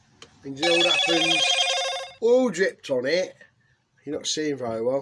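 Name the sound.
mobile phone ringing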